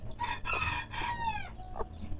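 A bantam rooster crows with a drawn-out, wavering call close by, with short clucks before and after it, in a backyard coop of fancy chickens.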